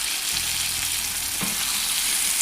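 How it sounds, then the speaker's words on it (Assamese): Local chicken meat sizzling loudly in hot oil in a pan, a dense continuous fry hiss with a few soft stirring knocks underneath, close and steady. "মাংসখন উঠুৱাই এতিয়া লৰাই দিম"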